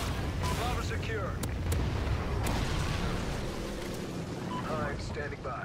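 Trinity rocket strikes in the shooter Old Ghosts land as deep, booming blasts in a busy battle soundscape, with sharp cracks of gunfire and radio voices speaking over the din.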